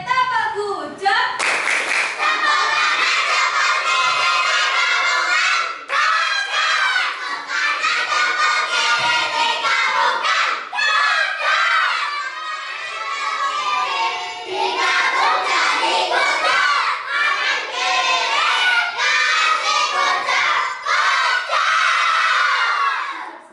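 A group of fourth-grade elementary school children in Indonesia chanting together in rhythm while clapping, loud and lively, with shouts and cheering mixed in.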